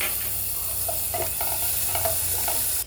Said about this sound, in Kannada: ಬೆಳ್ಳುಳ್ಳಿ ಸ್ವಲ್ಪ ಕೆಂಪಾದಾಗ 2 ಹಸಿಮೆಣಸನ್ನು ಸಣ್ಣದಾಗಿ ಕಟ್ ಮಾಡಿ ಹಾಕಿ ಫ್ರೈ